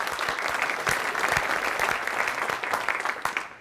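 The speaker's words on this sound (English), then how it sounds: "So an applause for him," An audience at a talk applauds a speaker with steady, dense applause that holds at a constant level throughout and fades slightly at the very end.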